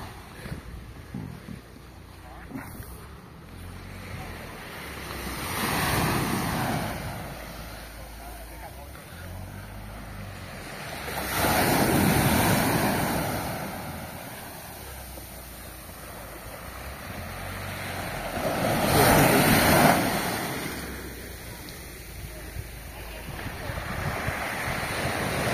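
Sea waves at high tide on the Palawan coast surge and recede in slow swells, building to three broad roaring peaks amid steady wind noise, with faint voices in the background.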